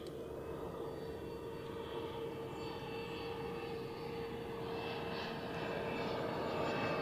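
An Embraer Phenom business jet at Zurich Airport gives a steady, distant engine drone and rush that swells slightly over seven seconds, heard outdoors with no talk.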